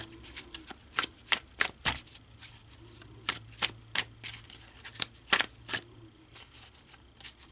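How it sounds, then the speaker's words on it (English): A deck of tarot cards is shuffled close up in quick irregular bursts, crisp riffling snaps and flicks with short pauses between them, alone without talk. "let's take a shuffle and see which one card wants to come out"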